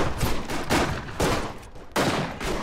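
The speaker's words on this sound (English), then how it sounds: "Oh, it's a shotgun." Shotgun fire in the First World War shooter Verdun: four hard, loud blasts spaced about half a second apart, each with a short crackling tail, over a steady battlefield background.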